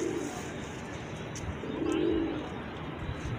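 Rooftop pigeons coo steadily in a soft, continuous murmur, with several birds close by and no talking.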